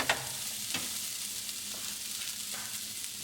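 Chicken breast, broccoli and pineapple being stirred in a hot pan, a steady frying sizzle with a few soft scraping strokes of the utensil, close and moderately quiet, no talking.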